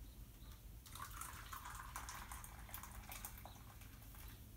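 Water poured into a glass for iced coffee, a faint, bubbling trickle that starts after a quiet moment and runs steadily on its own, with light splashing and gurgles.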